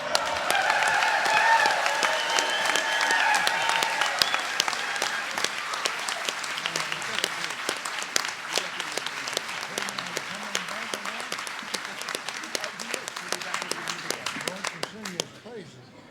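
At a tribal nations conference panel, an audience breaks into sustained applause. The clapping is loud at first and then thins gradually before fading out near the end, while a voice speaks over it in the later part.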